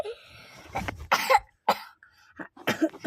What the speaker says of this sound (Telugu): నాకైతే ఫుల్ దగ్గు వస్తుంది